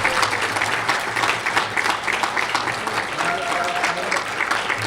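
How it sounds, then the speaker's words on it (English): Sustained applause from an audience at a government mobile app award ceremony, steady and dense clapping throughout with a low background hum. "Please show a clap of hands."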